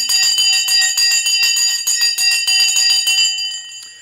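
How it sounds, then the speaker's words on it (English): A bell rings loudly and rapidly in a fast metallic clatter for several seconds before stopping abruptly, leaving a brief fading ring, with no voices over it. "Bell's gone."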